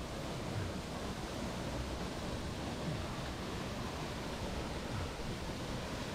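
A big waterfall in Dominica roars as a steady, dense wash of rushing water. The sound stays close, loud and unbroken, with no voices.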